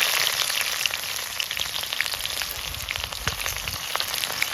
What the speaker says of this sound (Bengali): টমেটো আর কাঁচা লঙ্কা পেস্ট করা আমি তেলের মধ্যে দিয়ে দিলাম